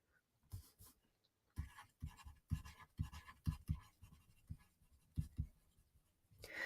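Pen on paper while notes are written by hand, a run of short scratchy strokes and taps coming in uneven bursts, close and fairly quiet, with no talking.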